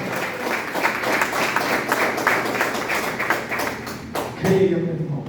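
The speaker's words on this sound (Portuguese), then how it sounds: "dê uma salva de palmas para Ele" A church congregation claps steadily for several seconds during a worship service, dense rhythmic applause with voices mixed in, ending with a brief louder swell.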